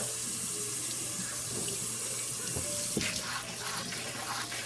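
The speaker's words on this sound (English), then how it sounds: "what we're going to do now is wash the herbs, the oregano, the basil, and the cilantro" Tap water runs steadily into a sink while fresh oregano, basil and cilantro are washed, a continuous moderate splash with a slight change in tone partway through as the herbs are handled under the stream.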